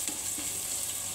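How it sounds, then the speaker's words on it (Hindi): Onion frying with cumin seeds in a pan, a steady close sizzle with faint crackle running evenly throughout, no voices. "थोड़ी देर के लिए हम इस प्याज को इस ज़ीरे के साथ ट्रांसपेरेंट होने देंगे, तकरीबन 2 मिनट तक।"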